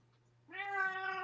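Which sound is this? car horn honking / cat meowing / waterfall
cat meowing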